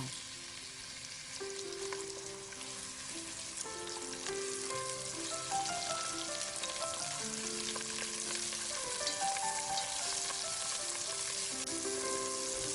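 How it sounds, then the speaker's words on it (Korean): Long-cut green onion stir-fries in oil for a spicy beef soup, a steady close sizzle with light scraping and tossing throughout. "일단 길쭉하게 썬 대파부터 볶아요."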